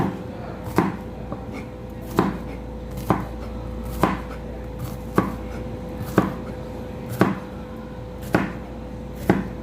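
A knife chops bitter gourd (ampalaya) in slanted cuts, a steady series of about ten crisp, close thuds on a board at a regular rhythm, with no talk.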